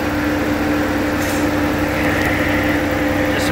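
A 1996 Buick Century with the 3.1-liter V6, which has secondary ignition and injector problems, idles steadily: a constant, even engine hum with no breaks or revving.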